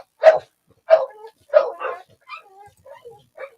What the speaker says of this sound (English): Hey, be careful of the dogs.